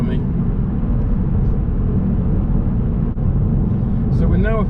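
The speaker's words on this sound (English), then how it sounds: "Firm burst to acceleration in the flexible gear before block change into 5th for fuel economy" A car in a flexible gear accelerating firmly on a town road near roundabouts, a steady loud engine rumble and road noise from inside the cabin, with a brief chirping sound near the end.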